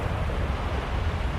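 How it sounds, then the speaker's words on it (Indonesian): Surf washing steadily onto a beach at rising tide, a continuous broad rush of breaking waves with low rumble and some wind noise, close and moderately loud, with no voices. "Airnya sedang pasang."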